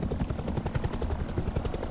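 A rapid, low chopping drone of video game helicopter rotors, steady and fairly loud, with no voices.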